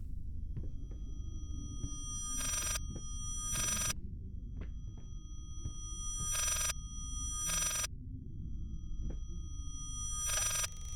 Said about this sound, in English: That's a phone, but in reverse.